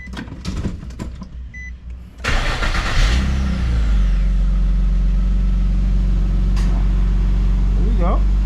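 A car engine cranks and starts after an exhaust leak repair, then settles into a loud, steady low idle that runs on, with brief voice sounds at the start.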